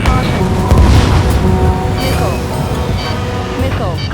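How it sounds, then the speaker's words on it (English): A missile launch in the Ace Combat 7 jet combat game gives a loud, sustained roaring whoosh with a deep boom, heard over continuous engine rumble and game radio chatter. "Missile launched."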